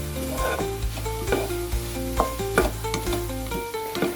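King oyster mushrooms stir-fried with chili, salt and sliced green onion, a continuous crackling sizzle with repeated clanks and scrapes of a spatula against the wok, close and busy, nobody speaking.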